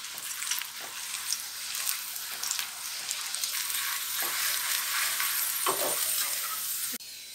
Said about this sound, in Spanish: aquí mismo vamos a freír las tortillas